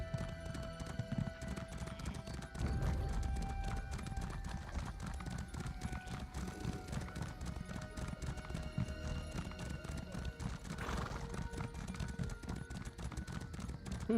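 Horse hooves clip-clop in a steady rhythmic trot while riding through ESO Greymoor, a fantasy video game, set under a continuous bed of game music and ambience.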